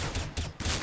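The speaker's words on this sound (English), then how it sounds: "I was shot through the fucking box by a scout." Shots in Counter-Strike: Global Offensive, including a scout sniper rifle firing through a box, heard as a quick cluster of faint gunfire bursts in under a second.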